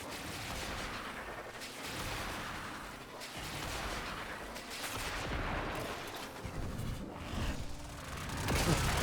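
Explosions, missile impacts and heavy booms from the video game Warframe rumble continuously through the clip, with bursts of thumping blasts swelling louder toward the end.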